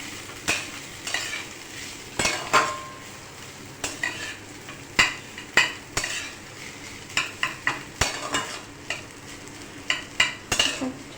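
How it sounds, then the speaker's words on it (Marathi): Grated potato for sheera being sautéed in ghee in a pan, a steady sizzle with frequent sharp scrapes and clinks of the spoon against the pan, close and fairly loud, with no talking. "छान गुलाबी सर ये रंग येईपर्यंत आपल्याला तुपात परतून घ्यायचा आहे"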